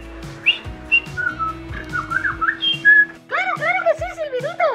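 A person whistles a wandering, melodic tune with sliding notes, then shifts to quick rising-and-falling chirpy whistles, close and clear.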